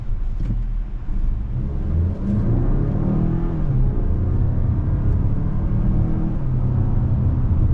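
A 2025 Mazda CX-5 Turbo Signature SUV pulls away from a stop, its engine growling loud and steady as the pitch climbs through the gears, with no talking.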